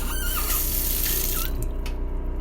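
Water gushes steadily from a sink faucet inside a Thor Fourwinds 31F Class C motorhome, a close, bright, continuous splash with a brief change in flow partway through.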